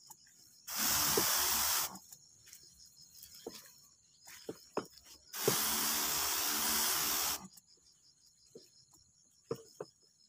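Two long, loud bursts of a pressure sprayer hiss over watermelon plants, each lasting about a second or two, with faint clicks and handling knocks between them.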